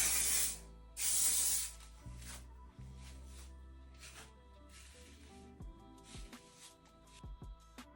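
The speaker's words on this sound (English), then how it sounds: "I'm probably gonna use my Bond Wonder Spray to hold it down a little bit more" Bond Wonder Spray hisses out in two bursts of about half a second each onto a slicked-back frontal ponytail wig, followed by soft rustling and handling noises as the hair is smoothed down.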